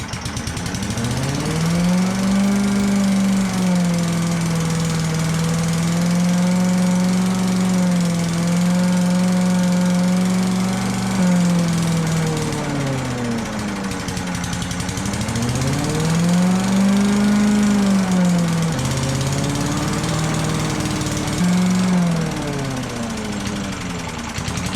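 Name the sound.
Tecumseh lawn mower engine running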